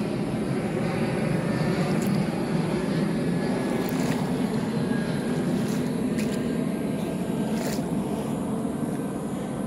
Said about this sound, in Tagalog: Umadaan ng eroplano.